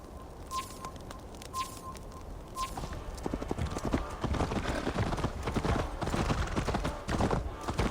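Horse hooves clip-clop in Assassin's Creed Valhalla, starting faint and sparse, then building into a steadier, louder trotting rhythm over dirt with outdoor game ambience.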